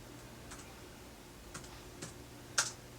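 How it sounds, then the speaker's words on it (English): A few sparse, faint keystrokes on a computer keyboard, isolated clicks spaced out over a quiet background with one slightly louder tap near the end. "I'm going to type in"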